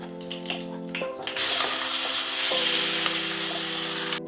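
Chicken pieces drop into hot coconut oil with curry leaves and burst into a loud, steady sizzle that holds close and strong, with no voices over it.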